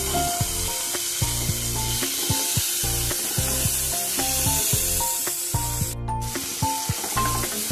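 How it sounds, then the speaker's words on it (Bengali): Chopped tomatoes hiss and sizzle in hot oil with fried cumin and green chilli while a spoon scrapes and stirs the pan in a steady rhythm of clatters, close and continuous, with no talk. "দিয়ে আমি একটু নাড়বো যতক্ষণ না টমেটোটা একটু গলে যায়।"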